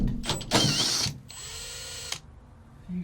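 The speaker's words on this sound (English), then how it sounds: "I'm going to drill this hole" A power drill bores a hole in a narrowboat during a conversion, in two loud bursts of whirring with a brief pause between them, then it stops and the space falls quiet.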